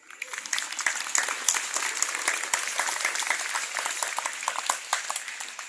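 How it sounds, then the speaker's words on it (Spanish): Loud, sustained applause from a church conference audience in the Ngäbe-Buglé region, dense clapping from many hands filling the room steadily for several seconds. "Fuerte aplauso."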